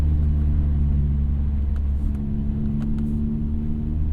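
A Mazda Miata ND3 drives along a snowy road, its engine giving a steady, close, low droning hum with road rumble that holds at a constant level throughout, with no talking.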